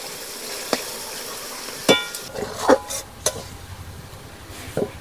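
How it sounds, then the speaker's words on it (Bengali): Onions frying in oil in a pan for chicken biryani, a soft steady sizzle broken by sharp clinks and scrapes of a spatula against the pan, close and moderately quiet, with no talking. "পেঁয়াজটা আমি ভালো করে ভেজে লাল লাল করে নেব।"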